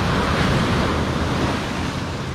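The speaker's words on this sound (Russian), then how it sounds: "Это здесь у берега как бы волна есть" Pacific Ocean waves wash steadily against the shore, a loud, continuous roar of surf with wind buffeting the microphone and no talking.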